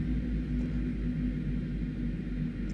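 Airbus A300-600R jet engines in X-Plane spooling down after landing, a deep, steady, loud rumble with a faint pulsing throb underneath, no voices.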